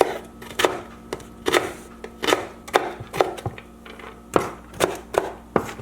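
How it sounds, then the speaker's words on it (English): A knife chops an onion on a board for a one pot pasta, a run of about a dozen crisp close thuds falling in a fairly even rhythm of roughly two per second. "We're going to cut 1/4 onion"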